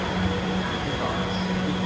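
A train pulls into Wareham station on the Royal Wessex railtour behind steam locomotive 34052 Lord Dowding. Only a steady, fairly quiet low rumble and hum can be heard, with no voices over it.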